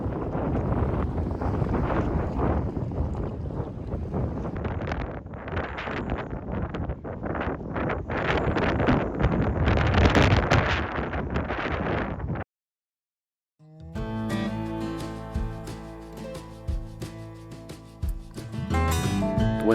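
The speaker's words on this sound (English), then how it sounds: "ask you how you handle wind and rocking in your camper" Strong wind buffeting a camper parked on the beach along the Gulf Coast in Texas, loud continuous roaring gusts against the microphone, then a short silence and a different, tonal passage.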